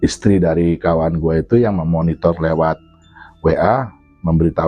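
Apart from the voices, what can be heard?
None of the usual background noises is heard.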